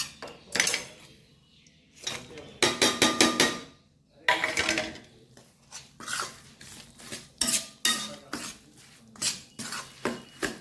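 Jaggery is stirred into freshly roasted flour in a pot for sukhdi, with bursts of scraping and clattering metal utensil knocks in irregular clusters separated by brief pauses.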